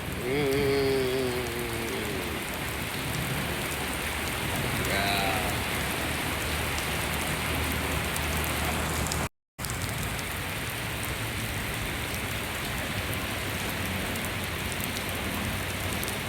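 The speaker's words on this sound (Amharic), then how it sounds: "ዋው ደስ የሚል ዝናብ እየጣለ ነው።" Steady, dense rain pours down continuously, with a faint voice and a high chirp near the start, then a brief dropout.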